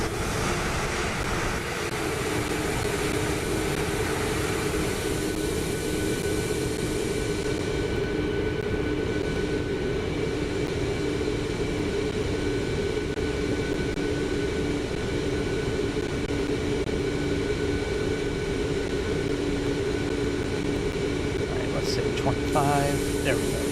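A Boeing 737 MAX 8 in a flight simulator game holds a steady, loud broadband jet-engine roar throughout, with faint tonal whines and a few clicks near the end.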